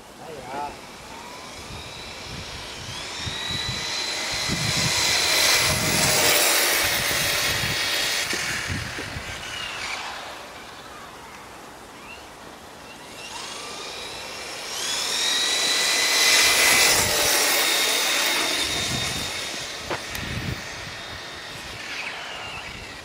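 Stock Arrma Typhon 4S RC buggy speeding past twice, its electric motor whining to a high pitch as it approaches and fading as it moves away, with talking in the background and outdoor noise.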